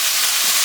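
Cabbage and mixed vegetables stir-frying in a pan for a Caribbean vegetarian dish, giving off a loud, steady, steamy hiss in one brief unbroken burst.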